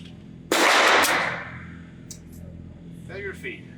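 A single sharp, loud report from a Remington R1 1911 pistol at a shooting range, ringing briefly before fading, followed by faint mechanical clicks and a short burst of speech.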